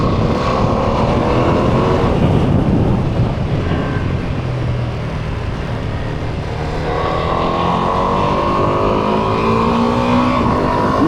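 A Ducati Multistrada V2 twin-cylinder engine revs and barks nearby, a loud, rough, throbbing growl that rises and falls in pitch through repeated throttle blips and sustained revving.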